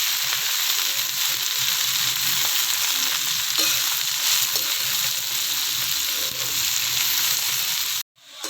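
Okra (bhindi) fries in a pan with onion for bhindi payaz sabzi, a loud, steady, close hiss of sizzling oil that runs unbroken before cutting off abruptly near the end.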